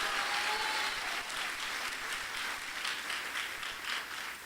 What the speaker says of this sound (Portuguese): Quem crê, diga amém e dê um aplauso a Jesus.